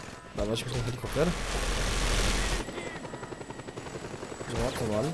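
Helicopter in the video game Just Cause 2, a steady rotor and engine drone rising loud in the middle, alongside bursts of gunfire, with players talking over it.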